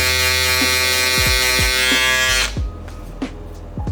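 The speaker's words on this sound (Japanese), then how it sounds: "でこれでシェーバーはおしまいになります。" An electric shaver buzzes steadily close up while trimming eyebrows in a barbershop grooming routine, then cuts off, leaving a few short clicks and light handling noises.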